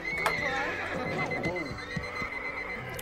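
A horse neighs loudly, with wavering whinny calls sweeping up and down across the middle of the clip, along with a few hoof knocks and a faint tone that runs steadily underneath.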